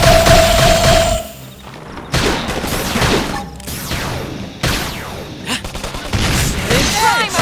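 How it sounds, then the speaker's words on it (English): Rapid bursts of sci-fi beam fire and impacts from a Beam barrage attack in Xenoblade Chronicles X crackle in clustered volleys, with sharp hits, brief gaps and a sweeping tone, loud and busy. "Beam barrage! Beam barrage!"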